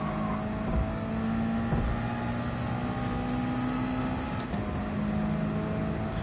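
Engine drone of a Subaru WRX driven in a PS4 racing game, a steady sustained hum with even loudness throughout, no talking.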